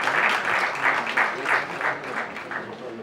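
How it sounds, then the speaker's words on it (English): An audience at a healthcare talk on patient safety and sustainability gives a full round of applause, dense and continuous for about three seconds with gentle swells. "May I have a round of applause, please, for this young,"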